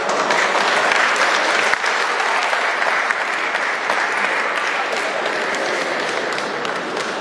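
An audience at an annual college function gives sustained applause for a prize winner in a dueha-chhand competition, the clapping loud and steady throughout without a break.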